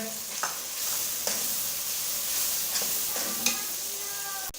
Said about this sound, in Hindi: लहसुन अदरक का पेस्ट ये डालेंगे, मिक्स करेंगे